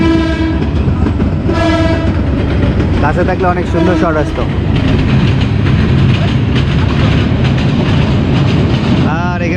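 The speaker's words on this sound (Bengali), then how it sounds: "ট্রেন যখনই আসে আমি দূরে সরে যাই," A train passes close by at a riverside, its loud horn blaring early on over a continuous heavy rumble and rattle of rail cars, with someone talking over the noise.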